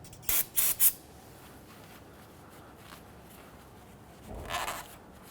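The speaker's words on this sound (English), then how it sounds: "Give this a quick spray with some solvent." A solvent spray can fired at a Nissan Frontier engine near the oil cooler: three quick, sharp hissing bursts close to the mic, a pause, then one longer, softer spray.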